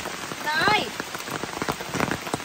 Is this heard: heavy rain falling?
yes